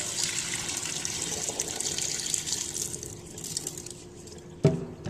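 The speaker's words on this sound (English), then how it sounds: "Pour out all the dirty water." Dirty rinse water poured off washed sushi rice in a bowl, a continuous close splashing gush that thins toward the end, finished by a brief knock, with no talking.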